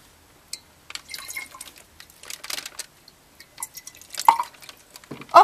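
Water with a betta fish being poured into a bowl, giving scattered drips, trickles and splashes that build to a louder splash at the end, heard up close with no talking.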